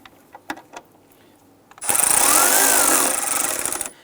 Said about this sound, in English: Now let's go ahead and snug down our screws here.